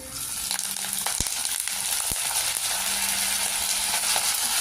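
Curry leaves and dried red chillies temper in hot oil for mango pulihora, a steady bright sizzle with a couple of sharp spatula knocks on the pan.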